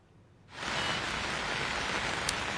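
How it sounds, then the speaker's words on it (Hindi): Heavy monsoon downpour in Mohali, Punjab, starting abruptly as a dense, loud, steady roar of rain that then holds constant and close, with no voices. "तो यहाँ पर अगर देखें तो मूसलाधार बारिश जो कहते हैं तो वो देखने को मिल रही है।"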